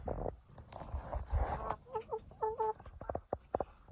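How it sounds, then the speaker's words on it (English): A friendly little hen on a homestead farm clucks in short, close bursts with rhythmic harmonic calls, mixed with rustling and a few thumps while a nesting box is being built nearby. "It's Henrietta, our most friendly little chicken."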